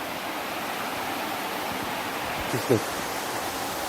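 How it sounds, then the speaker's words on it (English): A waterfall on a mountain getaway in South Africa gives a steady, even rushing roar throughout, with a person speaking briefly over it. "There's a waterfall, and over there you can see it going down all the way."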